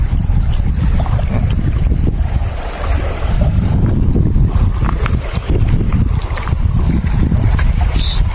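Strong wind buffets the microphone in a constant heavy roar, with gusts rumbling loudly from start to finish.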